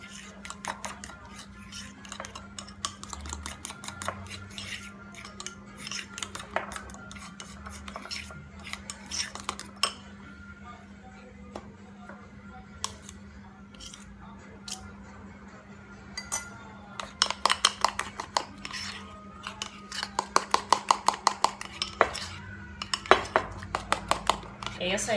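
A utensil clinks and scrapes against a bowl while oat bread dough seasoned with oregano and a pinch of salt is mixed, a steady run of light taps that grows busier toward the end, with a voice talking in the background.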